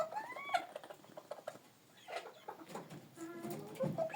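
Soft clucking and chirping from young hens in a henhouse, scattered through a busy, rustling background with no talking.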